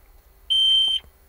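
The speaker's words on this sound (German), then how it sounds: "Und jetzt habt ihr gehört, okay, die Alarmanlage ist scharf." A Thitronik alarm system in a motorhome arms with one steady, high electronic beep lasting about half a second, loud and close in an otherwise quiet interior.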